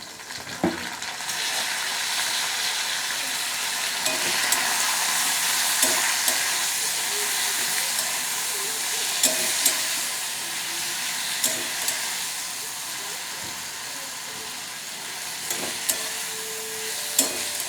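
Onion, garlic and chili paste fries in a hot pan for a prawn and taro-stem dish, giving a continuous loud sizzle broken by occasional scraping stirs, with no talking.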